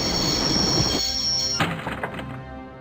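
A train runs in the Broken Sword point-and-click adventure game. Loud rail rumble and wheel noise fill the first part, then cut to quieter clanks and a thunk that fade out.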